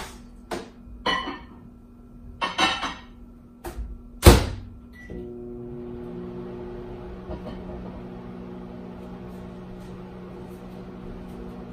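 A microwave oven heating butter and coconut oil runs with a steady low hum after a few clicks, door sounds and a beep near the start, continuing evenly to the end.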